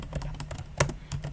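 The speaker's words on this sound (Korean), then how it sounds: "그대로 타이핑을 해서 입력합니다." Quick, light keystrokes on a computer keyboard tap in an irregular rhythm, close and fairly quiet, with no voices.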